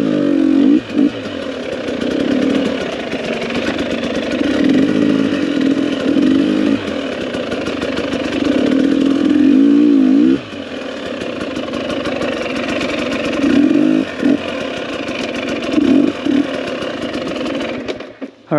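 A motorcycle engine revs steadily as it climbs a hill in second gear, a loud, continuous mid-pitched drone that rises and dips with throttle changes and has a brief lull partway through, with no talking.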